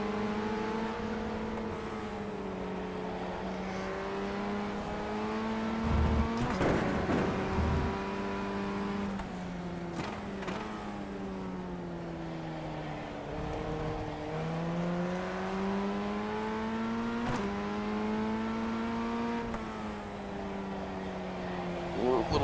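A Formula Ford 1600 race car in an iRacing sim race at Brands Hatch Indy roars off a standing start, its engine climbing steadily through the gears with brief dips at each shift, loud and continuous, with a voice talking over it.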